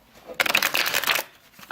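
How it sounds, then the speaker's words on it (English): A deck of tarot cards being shuffled up close, a quick riffling burst lasting about a second, with a brief rustle at the end. "Let me shuffle first."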